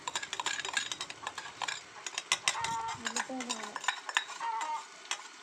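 Ginger paste with cinnamon and cloves is stirred in a pan for chicken curry, brief scraping and clinking of a utensil against the pan over a soft sizzle, close and quiet, with no voices.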